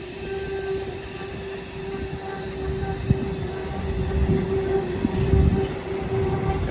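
A CSX L235 freight train rolls past with its wheels squealing in a loud, sustained high-pitched whine over rumbling rail noise, growing heavier toward the end with a few clanks, and no voices.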